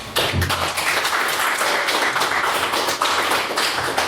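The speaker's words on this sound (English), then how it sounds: "Well, give them a round of applause and wish them all the best." An audience gives a round of applause, a dense, even burst of many hands clapping close by that carries on steadily for several seconds.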